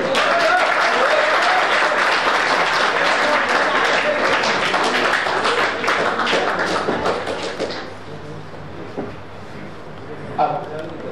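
An audience at a student welfare event applauds in a loud, dense burst of clapping that lasts several seconds, then drops to a few scattered claps and low room noise.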